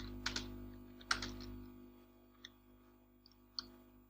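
Numeric values typed on a computer keyboard, ending with the enter key: sparse, quiet clicks in small bursts near 0.3 and 1.1 seconds, then a few isolated taps, over a steady low electrical hum.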